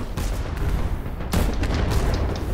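Torpedoes explode in the airship combat game Cloud Pirates, producing loud, dense booming blasts that rumble continuously, with a heavier burst partway through; no talking.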